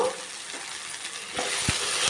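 Tomato, ginger and vegetables fry in hot oil for semiya upma, a steady broad sizzle with a few sharp clinks of a utensil against the pan.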